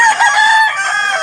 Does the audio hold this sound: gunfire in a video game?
no